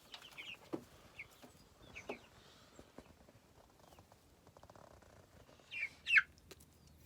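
Six small Cornish cross chicks are set loose on a grassy patch outdoors, giving soft scattered peeps and chirps with faint rustling, ending in a louder pair of cheeps near the close.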